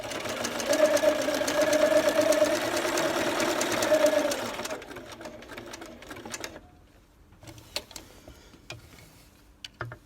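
A sewing machine stitches a lace scallop edge along a seam, running in a steady, close mechanical whir for about four seconds before stopping, followed by quiet clicks and handling noises.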